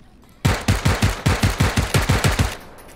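Automatic gunfire in the battle royale game PUBG, a rapid burst of about fourteen loud, close shots in even rhythm lasting two seconds, then quiet.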